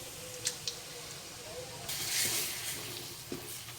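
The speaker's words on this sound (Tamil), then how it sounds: "மசாலா எல்லாமே நம்ம எண்ணெயில் போட்டு வறுத்துக்கலாம்." Kashmiri chili powder and coriander powder fry in hot oil, making a soft hissing sizzle that surges louder midway, with a few small pops and clicks.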